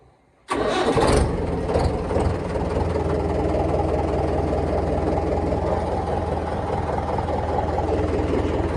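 A farm tractor's engine cranks and catches after a brief silence, then settles into a loud, steady rumbling idle, heard up close with no talking.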